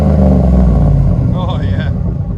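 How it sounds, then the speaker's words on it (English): A 2010 GMC Yukon Denali's 6.2L V8 with a muffler delete rumbles loud and close, its deep exhaust note dropping off as the revs settle. A voice speaks briefly over it. "2010 GMC Yukon DENALI."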